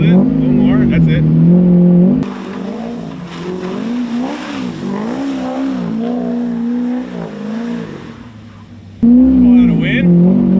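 Modified 500-horsepower C5 Corvette engine revving, held on the throttle, with a deep droning tone that rises and wavers, fades back into a steady engine note, then returns strongly near the end, with people talking over it.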